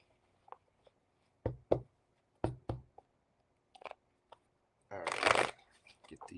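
Tarot cards are shuffled by hand in short, crisp bursts of riffling and tapping, ending in a denser, louder shuffle near the close; the setting is quiet and close.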